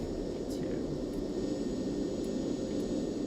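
Engine noise from a Cessna Citation CJ (C525) jet descending in a flight simulator game: a steady, even roar with a thin high whine that holds constant throughout, heard without any talking.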